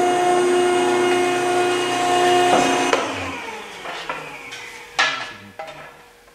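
Metal stock being cut for a Land Pride grapple cradle, a steady grinding whine for about three seconds that gives way to sharp clanks and scraping knocks of the workpiece and tools.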